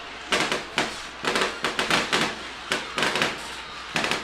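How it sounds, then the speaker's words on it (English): Fireworks burst at a high school football game, a rapid series of sharp crackling pops and bangs in irregular clusters, loud and fairly close, with no voices over them. "The firework operator clearly clicked it"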